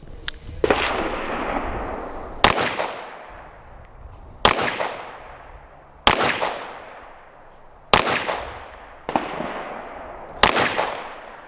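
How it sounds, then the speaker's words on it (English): Five pistol shots from a Staccato P handgun fired at an outdoor range. Each loud, sharp crack is followed by a long fading echo, spaced about two seconds apart, with no talking. "that's the first 5 shots out the Staccato"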